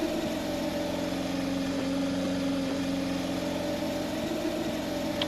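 An A chassis racing car engine running steadily at idle, a constant mid-pitched drone with no change in speed throughout.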